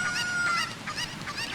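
A cucco chicken in Zelda Ocarina of Time squawks in quick repeated honking clucks, several short calls in a row, close and fairly loud over faint background.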